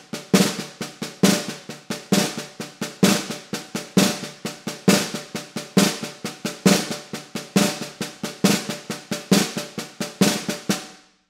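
A caixa snare drum plays a samba reggae pattern from Bahia, sharp crisp strokes in a steady repeating rhythm punctuated by short press rolls, close and loud, alone for about eleven seconds.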